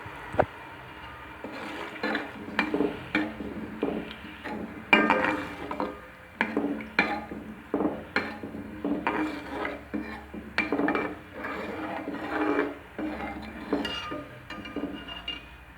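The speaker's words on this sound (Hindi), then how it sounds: "अच्छी तरह से अब हमने इसको मिक्स कर लिया है" A spoon scrapes and stirs jaggery rice in a pot, giving repeated rasping, irregular strokes with occasional clinks against the metal, close and moderately loud throughout.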